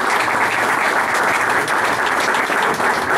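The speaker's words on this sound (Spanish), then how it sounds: "quiero un aplauso también de toda la familia Lasallana, el vicegobernador Jorge Stem" An audience at a La Salle school presentation event applauds the vice governor, dense sustained clapping from a crowd that stays loud and even from start to finish.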